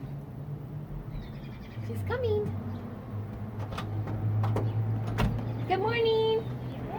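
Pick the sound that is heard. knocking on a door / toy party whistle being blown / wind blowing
knocking on a door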